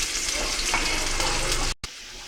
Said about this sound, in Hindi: 2 चम्मच तेल गरम कर लिया है और इसमें अब हम क्यूमिन सीड्स डालेंगे, चॉप्ड अनियंस और इनको अच्छे से सौते कर लेंगे